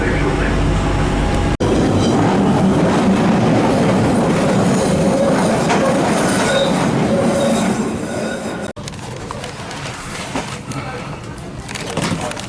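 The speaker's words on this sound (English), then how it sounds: "Okay, I'm now on the train at Liverpool Street." A passenger train near Liverpool Street runs with a loud, continuous rumble heard from on board, with wheels squealing and rattling throughout and a sudden sharp jolt midway, the noise easing slightly toward the end.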